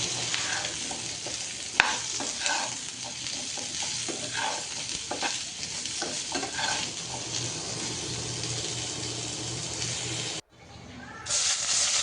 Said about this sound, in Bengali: আলুটাও ভেজে নিব মাছটা ভাজার পর। তো দিয়ে দিলাম আলুগুলো।